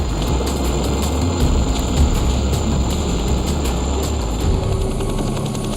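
Military helicopters flying overhead while releasing flares under enemy gunfire, a continuous loud rotor drone with rhythmic blade chop throughout, steady and unbroken with no voices.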